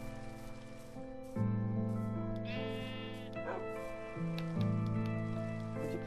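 Sheep bleating in the Minecraft video game, a few short bleats over steady game music and a soft rain hiss in the background.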